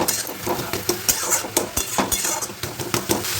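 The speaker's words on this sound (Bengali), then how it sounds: "এই বিট গাজরগুলো একটু ম্যাশ করে দেবো একটু খুন্তি দিয়ে বা হাতা দিয়ে" Boiled beetroot and carrots are mashed with a spatula in a pan, making a rapid series of close knocks, clinks and scrapes against the metal in an uneven rhythm.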